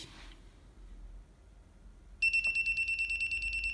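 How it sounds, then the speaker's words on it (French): A quiet room gives way to a rapid, pulsing electronic beep from a voltage detector pen sensing electricity from an appliance, starting suddenly and repeating steadily until the end, loud and close. "rien qu'avec ce stylo pour détecter l'électricité que émane l'appareil, ça va biper"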